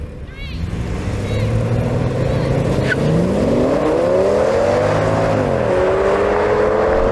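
An Audi S8 in dynamic mode revs hard under load during a drag race, its engine note climbing through rising harmonics, dipping at a gear change near the middle, then pulling up again, loud and close.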